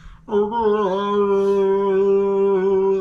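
A single voice imitates a call to prayer, holding a long sustained chant-like tone with slight wavering, close and clear with no other sounds.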